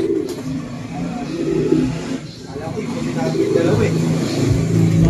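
Racing pigeons coo softly amid a busy outdoor background with a person talking and a vehicle engine rumbling nearby.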